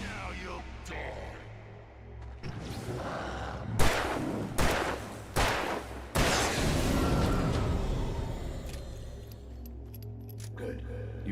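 Gunshots in the video game Alan Wake Remastered, several loud sharp blasts in an irregular cluster in the middle, amid background game sound and a voice speaking.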